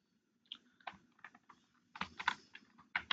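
Keys clacking on a computer keyboard in quick irregular bursts, close and clear, with short pauses between runs of typing and no voices.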